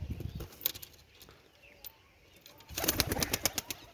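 Red-eyed pigeons flap their wings in short bursts, a quick clatter at the start and a longer flurry of flapping near the end, with faint soft sounds in between.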